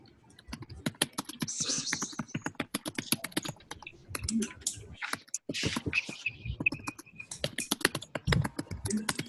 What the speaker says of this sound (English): Anna, are you typing it or